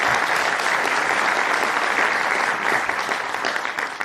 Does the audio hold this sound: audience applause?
yes